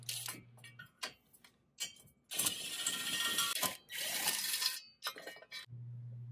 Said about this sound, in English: Using a 17 millimeter deep socket, we can get the rest of this bumper assembly off